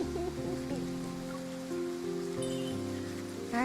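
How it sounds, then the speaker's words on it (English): Rain falling at night in the game Love and Deepspace, a continuous soft patter beneath sustained musical tones that shift slowly, with no voices. "It's not going to stop raining tonight."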